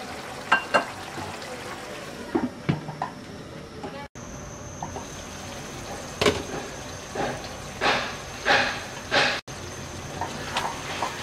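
Dried churi fish and jackfruit seeds cook in a pan with a continuous bubbling sizzle, punctuated by several louder stirring scrapes and splashes near the end.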